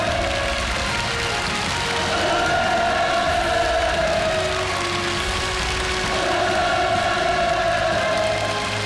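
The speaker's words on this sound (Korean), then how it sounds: "격정의 눈물을 쏟고 쏟으며 열광의 환호를 터쳐 올렸습니다" A large crowd at a celebration for North Korean military medical personnel cheers Kim Jong Un's appearance in a sustained, far-off roar that swells and holds for several seconds.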